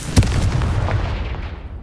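A Confringo spell blast from Hogwarts Legacy explodes with one sharp, booming hit, followed by a rumbling tail that fades over a second or so.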